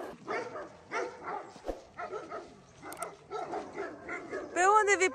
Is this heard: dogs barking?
yes